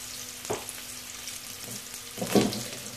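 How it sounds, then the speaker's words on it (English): Onion and bay leaf frying in hot oil for a soup, a steady soft sizzle with a couple of louder crackling flare-ups as ingredients are stirred, close and without talk. "once the oil is okay. You're gonna add this onion and then you put the bay"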